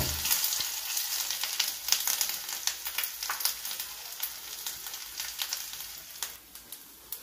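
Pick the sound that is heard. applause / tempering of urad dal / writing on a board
tempering of urad dal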